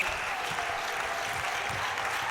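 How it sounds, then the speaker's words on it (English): Steady applause and crowd noise fill a netball stadium during a South Africa versus England match, a dense, continuous clatter of clapping with no breaks. "Crowd feeling it now, aren't they?"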